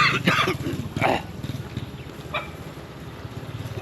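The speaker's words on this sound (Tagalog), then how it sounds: "Yan, may aso guys, oh." A dog barks a few times near a schoolyard in a Philippine neighborhood, short rough barks over steady outdoor background noise, moderately close, then trailing off.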